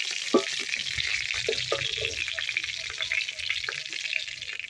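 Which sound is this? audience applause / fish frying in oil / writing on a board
fish frying in oil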